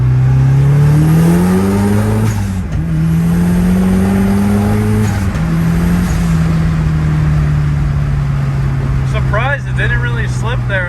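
A car with a slipping clutch accelerates hard in second gear during drifting, its loud close engine note climbing in pitch through repeated revs, with a person talking over it.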